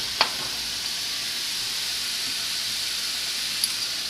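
Shaved steak and onions sauté in a pan for a homemade calzone, giving off a steady, even sizzle with a soft hiss and a couple of faint clinks near the start and end; no talking.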